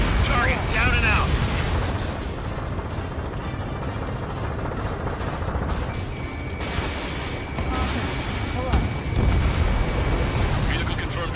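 Explosions from destroyed targets in the combat flight game Ace Combat 7 rumble continuously as heavy low booms and bursts, loud and dense, under radio chatter and engine noise.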